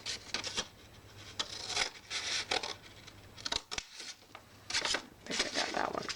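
Scissors snip through the corners of a handmade paper gift bag up to the bottom fold, giving several short crisp cuts and paper rustles at close range, with gaps of near silence between them.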